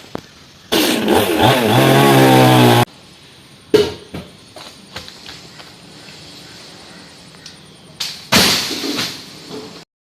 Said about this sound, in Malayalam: ആ നിഷാദാണ് മരം മുറിച്ചുകൊണ്ടിരിക്കണേ.